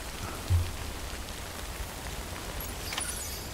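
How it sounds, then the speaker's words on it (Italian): Steady rain falling in the video game Death Stranding, a constant even hiss of drops with a soft low rumble beneath, heard alone without talk. "trova un riparo dalla pioggia"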